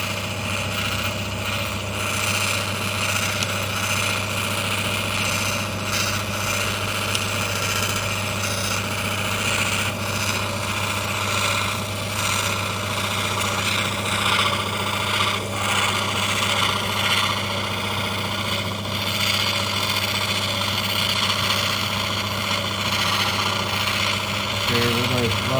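Opal being worked on a spinning lapidary cutting wheel, Lightning Ridge gem, with a steady droning motor hum and grinding texture running continuously and loud throughout, a voice talking over it.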